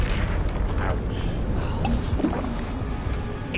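A Confringo spell explosion booms in Hogwarts Legacy combat, a heavy low rumble with scattered crackling bursts amid other battle noise, loud and close, with a voice faintly present.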